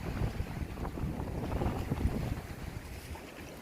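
Sea waves breaking at a rocky island fishing spot on Geumodo near high tide on a windy day, a continuous churning wash with strong wind buffeting close to the microphone and no voices.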